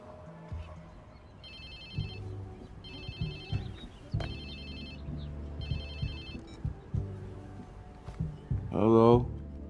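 In the video game Watch Dogs 2, a phone rings in repeated electronic bursts over background music and low rumble, and a voice comes in at the end.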